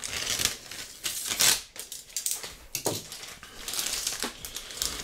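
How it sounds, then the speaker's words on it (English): Plastic comic book bag being carefully cut open, with close crinkling and crackling rustles, sharp snips and crumpling bursts scattered across several seconds. "let's go ahead and carefully cut open this bag here"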